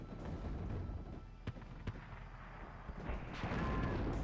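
Gunfire and explosions from a WARNO video game battle, including a BMP-1 and its grenade launcher, sound as distant rumbling booms with a few sharp cracks over a steady low roar, the volume swelling near the end.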